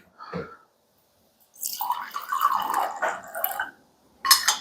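Wine poured into a glass at a tasting dinner, a bright splashing stream running for a couple of seconds, with a short clink before it and another brief pour after.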